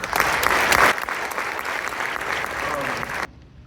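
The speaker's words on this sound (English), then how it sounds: "So if you would give our booster organization a round of applause, please." An audience at a high school spring concert claps for the booster organization: a dense, loud burst of applause that eases slightly, keeps going for about three seconds and then cuts off abruptly.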